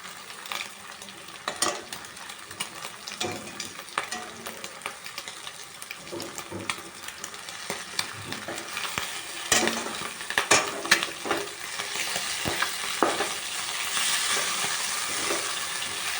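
Eggs for egg fried rice sizzle in a pan while being stirred, a continuous crackle broken by scraping and clattering strokes of the spatula that grow busier toward the end, with no talking.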